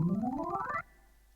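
A Hammond B3 organ glides upward in a quick smeared run of notes, stopping abruptly into a soft, steady sustained tone.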